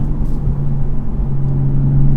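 A 2023 Toyota GR Supra with a manual transmission, driving, gives a steady low engine rumble and road drone that holds even and close throughout.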